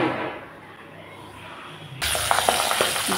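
Pabda fish coated in turmeric and salt start frying in a pan, with a soft hiss that jumps into a loud, steady sizzle with small pops and spatters, heard close and without any talking.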